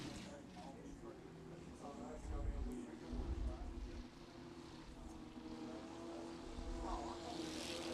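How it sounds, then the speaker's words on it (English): Crown Victoria race cars lap a dirt track at Lake Cumberland Speedway, their engines a distant, rumbling drone that swells as they pass while an announcer talks over the noise. "White flag out, one more lap around here for your Crown Vics"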